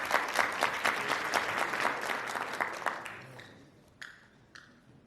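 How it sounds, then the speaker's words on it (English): Audience applause at a wellness and lifestyle medicine lecture, a few seconds of moderate clapping that thins out, leaving a handful of last isolated claps. "So give yourselves a big round of applause."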